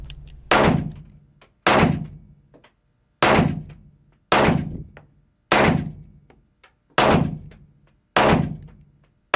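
A handgun fired at a steady pace, eight loud, sharp reports spaced about a second apart, each ending in a short booming decay, with silence between shots.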